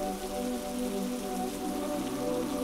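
Steady rain pours down continuously as a cartoon sound effect in an animated Bengali horror story, a dense, even patter with no voices over it.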